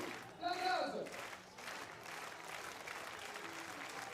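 Crowd applause at an outdoor athletics meeting after a long jump, a burst of clapping that swells early and then fades into softer sustained applause, with a commentator talking over it.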